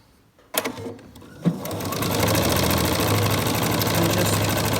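A sewing machine stitches selvages onto a quilt. It starts after a couple of handling clunks, then runs close and steady in a fast, even whirring rattle.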